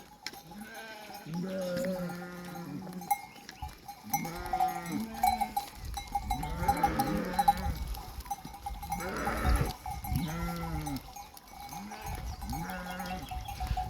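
A flock of sheep kept on a village farm bleats repeatedly, several animals calling near and far in overlapping bursts, with a faint ringing bell in the background.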